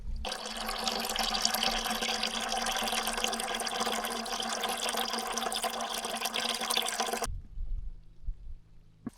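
Water runs from a tap at a yurt at slightly reduced flow, a steady close rushing splash for several seconds that suddenly stops, leaving a few low dull knocks.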